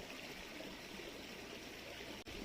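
Spring water flows in a steady, full rushing stream nearby, an unbroken wash of sound with no voices.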